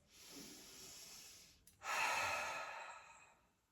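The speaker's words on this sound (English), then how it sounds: "Inhale into your belly towards your chest and exhale through your mouth and release" One slow, deep breath: a soft inhale followed by a fuller, louder exhale through the mouth, close and unhurried, fading out at the end.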